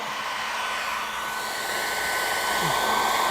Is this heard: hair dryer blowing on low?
yes